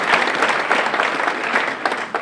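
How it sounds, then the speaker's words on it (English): Audience applause at a motivational talk in South Africa, a short steady burst of crowd clapping. "give them a round of applause."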